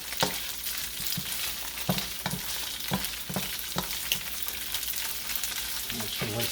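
Shrimp browning in a hot pan for a curry stir-fry, a steady sizzle broken by a run of sharp clinks and scrapes of a utensil against the pan at an uneven rhythm.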